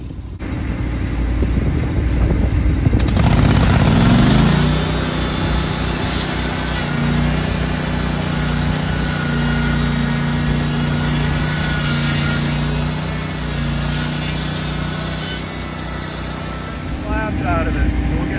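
A Vallee sawmill runs with its engine droning steadily while the blade cuts through a log, a loud, continuous mechanical roar with a rising bite near the start as the saw enters the wood.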